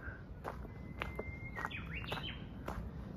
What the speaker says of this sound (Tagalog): Ganda ng tunog ng huni ng ibon.